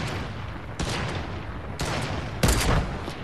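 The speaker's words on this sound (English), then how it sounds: "They are shooting at me, but I'm just going." Fortnite gunfire crackles in three loud, dense bursts, each a rapid volley of shots that holds for a moment and then cuts off, with the last burst the strongest.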